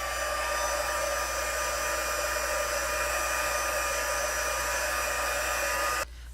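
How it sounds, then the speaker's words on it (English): A heat gun blows hot air over a watercolor card, a steady loud whooshing roar with a constant motor whine that drops abruptly near the end. "I'm impatient, so I like to take my heat gun and just heat set it a little bit."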